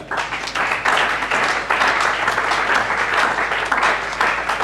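A church congregation bursts into dense, sustained applause, many hands clapping loudly and evenly for several seconds in a reverberant hall.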